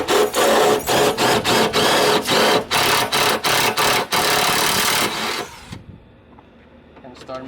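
A step bit drills into the sheet-metal body of a Jeep XJ in a run of short, loud, close power-drill bursts with brief pauses between them, then the drill stops and only faint ticking remains.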